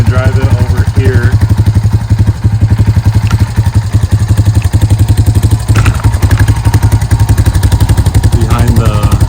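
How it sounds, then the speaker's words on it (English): A 2006 Honda Rancher 350 ATV engine idles roughly up close, its low pulsing chug uneven and loping, with occasional speech over it. "See how it's idling a little hard?"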